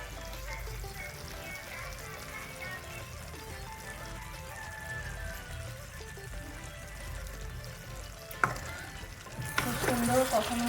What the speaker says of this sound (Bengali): আর সামান্য একটু কষলেই হয়ে যাবে।